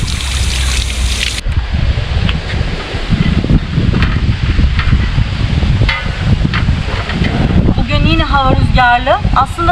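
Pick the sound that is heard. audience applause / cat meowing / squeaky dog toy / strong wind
strong wind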